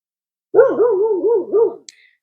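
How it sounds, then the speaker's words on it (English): A pet dog vocalizes close by in one sustained, wavering howl-like bark lasting over a second, followed by a short faint yelp, alone with no talk. "hopefully you don't mind the barking"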